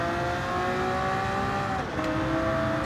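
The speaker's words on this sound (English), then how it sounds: "Oh, listen to that Mercedes go." A Mercedes race car in Gran Turismo 7 drones steadily at high revs, its engine note sustained with a brief dip and shift partway through, heard on its own without talk.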